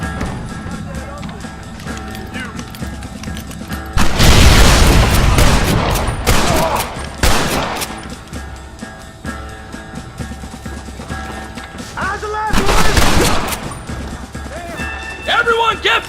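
Explosion and bursts of gunfire in the Red Dead Redemption video game: a loud blast and heavy fire around 4–7 seconds, another short burst near 12–13 seconds, with in-game voices in between.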